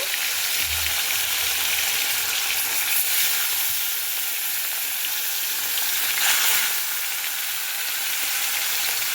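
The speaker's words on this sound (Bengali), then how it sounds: "এবার আমি কিন্তু মাছগুলোকে ভেজে নেব।" Fish pieces fry in hot oil, a loud, continuous, close sizzle that holds steady throughout with brief swells of crackle.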